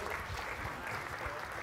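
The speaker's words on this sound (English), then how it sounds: "Everyone, give them a round of applause." Audience applause for volunteers called up on stage at a magic show, a steady broadband wash of clapping filling the short stretch with faint voices underneath.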